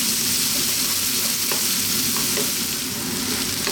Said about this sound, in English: Here we go with our onions. As you can hear, we're on a fairly lively heat.